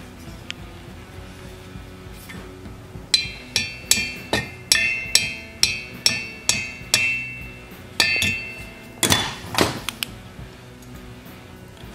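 Sharp metallic hammer blows ring out in a steady series, about a dozen evenly spaced strikes with ringing decay, then a brief scraping pause and a few more taps, while punching a divot to fix a moved engine valve guide.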